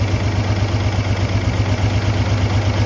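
A 1956 International S-160 4x4 truck engine idles up close, with the vacuum disconnected: a loud, steady low rumble with an even throbbing pulse and no voices.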